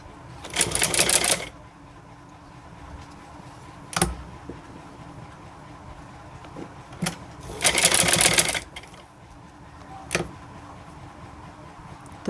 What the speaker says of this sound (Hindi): इनके ऊपर हम सिलाई लगाएंगे